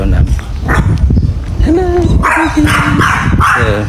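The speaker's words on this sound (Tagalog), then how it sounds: "ang tapang chihuahua." Small chihuahua barking sharply several times up close in a Thai village rental house, yapping over a man's greeting and ongoing talk.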